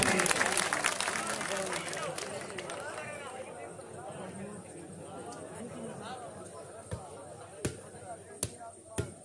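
A stadium crowd at Al Noor Stadium in Noorpur Thal claps and cheers, with dense applause at first fading into a few loud separate claps, while someone talks over it on a loudspeaker.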